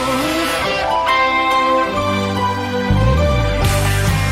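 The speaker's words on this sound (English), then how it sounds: "The UK's country station." A UK country music radio station plays a broadcast jingle of loud, sustained harmonic tones with shifting notes and a deeper low section near the end.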